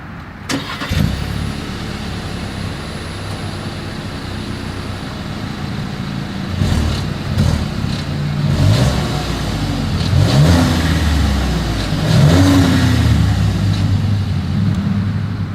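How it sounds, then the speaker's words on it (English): A 2022 Volkswagen Tiguan R-Line starts and idles with a rough exhaust note, then revs up repeatedly in rising and falling bursts, loud and close. "As always, here is that exhaust clip."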